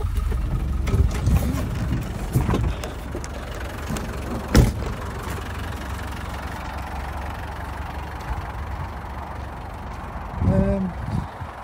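An old Land Rover Defender 90 engine cranks and fires, then settles into a low, rumbling diesel-like idle with a faint knock, close by, with a sharp thump midway and brief talking near the end.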